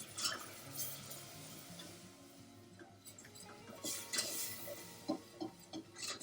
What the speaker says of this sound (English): Constantly whisking.